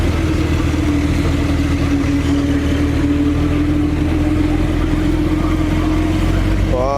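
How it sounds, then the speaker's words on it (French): A brand-new Porsche 922 runs in slow traffic, its engine a steady low rumble that stays level throughout without a clear pass-by swell. "Alors ici on a toute nouvelle 922 qui roule."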